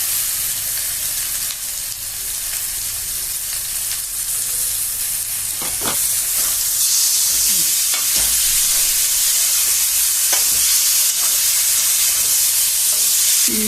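Ground sour-spicy chutney tipped into a frying pan of browned ingredients, a steady loud sizzle with scraping stir strokes and a few sharp clinks throughout, no talking.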